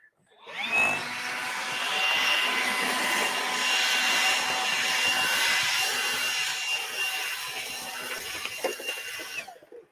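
A blower clearing debris off a roof during a chimney demolition, its steady airy roar starting abruptly, holding loud and close for several seconds, then easing with small knocks near the end.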